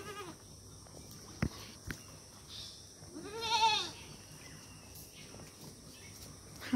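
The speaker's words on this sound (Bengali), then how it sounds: "হ্যাঁ, ছাগল" A goat gives one short, clear bleat midway through a quiet rural yard scene, with faint insect chirring and a couple of soft knocks around it.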